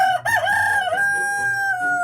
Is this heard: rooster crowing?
yes